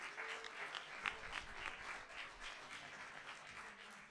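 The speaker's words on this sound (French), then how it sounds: "on peut s'applaudir" Audience of about ninety people applauding themselves at an evening environmental event, a soft, somewhat distant burst of group clapping that continues evenly for several seconds.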